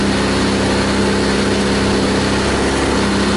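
A Viking 130 aircraft engine runs steadily during its first start, a loud, even mechanical drone with a constant pitch and no voices over it.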